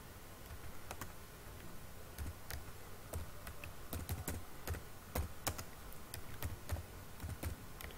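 Fingers type on a computer keyboard while an online job application form is filled in. A close, moderately quiet run of irregular key clicks comes in short bursts and steady stretches, with no voices.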